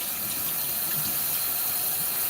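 Steady hiss of hot water running from a kitchen tap into a sink, continuous and fairly close, with no talking.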